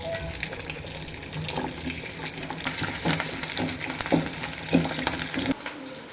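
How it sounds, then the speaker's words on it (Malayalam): Garlic and green chillies fry in coconut oil, a close, steady sizzle with bursts of crackle and stirring over about six seconds, stopping abruptly just before the end; no one speaks. "അപ്പോൾ നമ്മൾ വെളിച്ചെണ്ണ ഒഴിച്ചു. അതിൽ നമ്മൾ ആദ്യം ഈ വെളുത്തുള്ളിയും പച്ചമുളകൊക്കെ ഇടാം."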